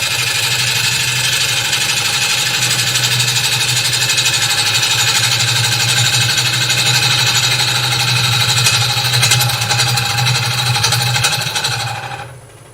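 Wood lathe spinning a workpiece at just under 1,000 RPM while the tool cuts, a loud continuous motor hum with a steady rhythmic rattle and scraping, running alone before fading out at the end.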